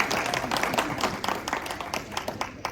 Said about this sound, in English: Yes, round of applause for Scott Brown.